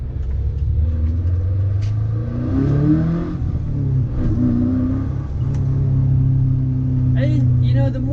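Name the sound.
manual transmission car engine revving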